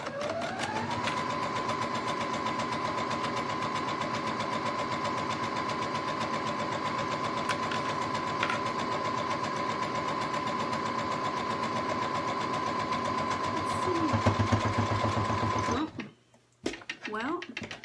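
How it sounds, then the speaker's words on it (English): A sewing machine back stitches a quarter-inch seam, holding a steady whirring drone close by for about fifteen seconds before it stops abruptly, with a person talking over it. "Quickly do some back stitching."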